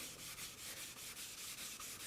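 A PC case sanded by hand with a steady rhythm of rasping back-and-forth strokes, about ten evenly spaced passes, close and alone.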